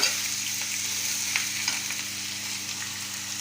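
Peeled ridge gourd sautés in a pan, a steady close sizzle with faint crackles and a couple of light stirring knocks, no talking.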